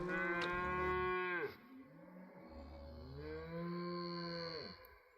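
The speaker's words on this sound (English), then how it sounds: "Two little calves rutting and pushing and playing." Cattle and calves moo in long, drawn-out calls, two lowing bellows one after another at moderate distance in a quiet outdoor setting.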